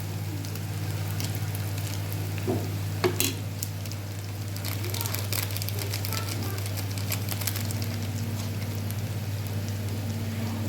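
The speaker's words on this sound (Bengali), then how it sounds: "এবার আমি ভালো করে মশলাটা মিশিয়ে দেখো ভালো করে এটা কষিয়ে নিচ্ছি" Ginger, garlic, onion, turmeric and coriander powder fry in a pan with a steady close sizzle. Scattered scrapes and clatters of stirring rise above it, and a low voice murmurs underneath.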